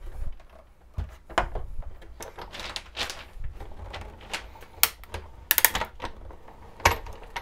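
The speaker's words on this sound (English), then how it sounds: "When I first got my Cuttlebug, you guys, I heard that cracking" Cuttlebug die-cutting machine crackling as its plates roll through, a run of sharp, irregular cracks and snaps up close, some louder bursts near the end, no voices.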